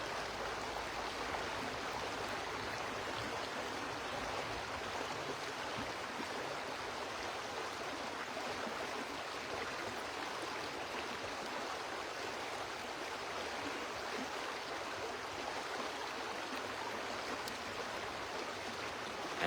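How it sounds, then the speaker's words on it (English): Steady, even rush of flowing river water, a continuous broadband wash with no pauses and no voices, close and unchanging throughout. "and the sounds of the river."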